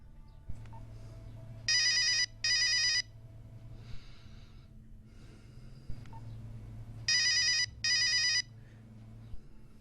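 A mobile phone rings in two short bursts of electronic double tones separated by a pause, loud and close over a low steady background hum, with no talking.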